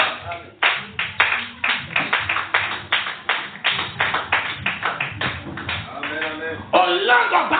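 A church congregation claps together in quick rhythmic bursts, loud and close, with a voice rising near the end of the clapping.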